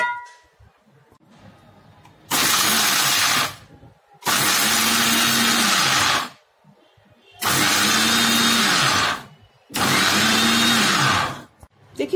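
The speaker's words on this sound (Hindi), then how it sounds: "देखिए बंद चालू करके मैंने आधे मिनट में ही इसे देखिए ग्राइंड कर लिया है" Mixer grinder pulsing roasted black sesame seeds for a dry tilkut chutney: four loud grinding bursts, each one to two seconds, separated by brief pauses of near silence, with no talking.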